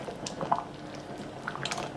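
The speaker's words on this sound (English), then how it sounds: "you know, bubbling pot of goods here" A pot of coconut chickpea curry simmers, giving soft, faint wet bubbling and popping with a few small squishy bursts at a close, quiet level.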